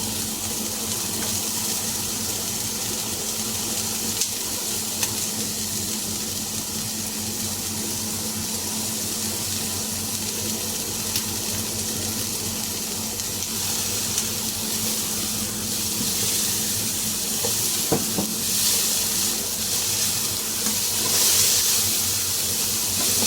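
Onion and garlic sizzling in a hot pan for Filipino-style spaghetti, a steady close broadband hiss that holds evenly throughout with a few faint clicks.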